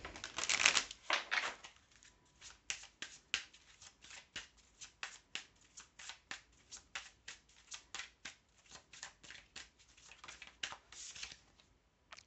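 A deck of feeling cards is shuffled in a long run of quick, crisp riffling flicks, close and fairly quiet, with no voices.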